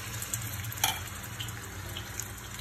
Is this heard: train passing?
no